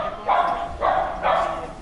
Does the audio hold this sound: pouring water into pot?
no